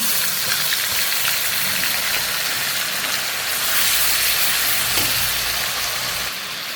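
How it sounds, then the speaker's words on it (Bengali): Whole cumin, bay leaves and chopped onion sizzle loudly in hot oil, a steady close-up hiss and crackle that swells slightly midway, with no talking. "তেল গরম হয়ে গেছে এখন দেবো গোটা জিরা তেজপাতা পেঁয়াজ কুচি"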